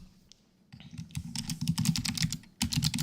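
Computer keyboard typing close up, a quiet start giving way to quick bursts of crisp key clicks with a brief pause before another rapid flurry.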